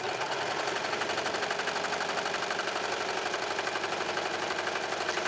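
An overlock serger runs at speed sewing a flatlock stitch, a loud, dense mechanical chatter with a fast, even rhythm that continues without pause from start to finish.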